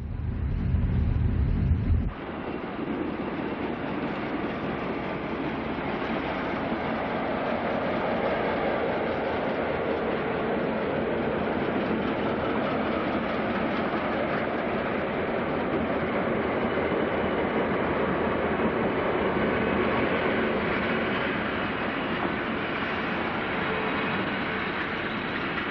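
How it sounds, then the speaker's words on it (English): A diesel passenger train pulls away from a station stop, a loud, steady rumble of engine and rolling wheels that holds on continuously, close and dominant with no talk. "After a brief station stop, the train is soon underway again."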